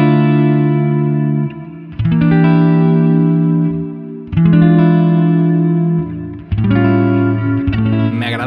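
A Gibson Les Paul Studio electric guitar on its neck pickup with distortion rings out sustained, full chords in three loud strummed phrases, each left to hang and fade before the next.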